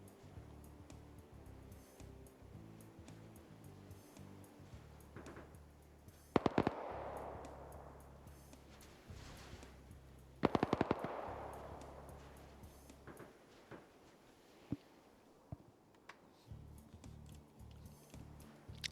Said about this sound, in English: A little bit more distant fire on the ridge